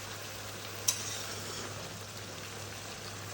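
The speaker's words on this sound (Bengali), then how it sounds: "আমি কিন্তু একটু পর পর এটাকে নাড়া দিয়ে দিচ্ছি।" Lata shutki, dried fish with taro stolons, fries with spices in a pan, giving a steady close sizzle throughout, with a single sharp stirring clink near the start and no talking.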